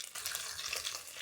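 Chopped ginger, mustard seeds and fenugreek hit hot oil in an uruli for Kerala fish pickle, giving a brief, faint crackling sizzle with no voices.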